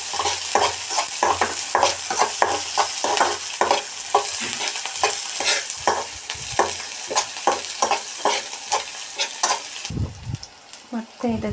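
Garlic and onion fry with cumin seeds in a hot pan, sizzling steadily while a utensil stirs in quick, repeated scrapes close by, the stirring stopping briefly near the end.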